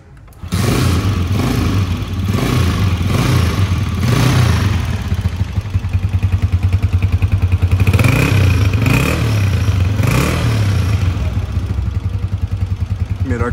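A Honda CG motorcycle engine fires up close by and settles into a steady idle, with repeated throttle blips swelling and fading over a continuous mechanical clatter; someone talks briefly over it.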